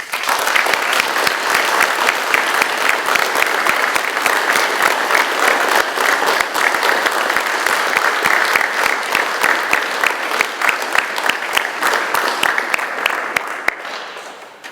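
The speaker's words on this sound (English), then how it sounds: "Give me a round of applause." A crowd at a Veterans Day ceremony in a high school gives a sustained round of applause, steady dense clapping that holds for many seconds before tapering off at the end.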